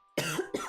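A person recovering from the flu clears their throat with a cough, two short rough bursts in quick succession, close and fairly loud.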